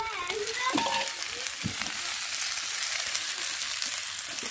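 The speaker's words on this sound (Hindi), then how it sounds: "प्याज हमारी अच्छे से फ्राई हो गई है" Onion frying in a pan with spices for a ghante godre recipe, a steady bright sizzle running throughout with a few clinks of stirring near the start.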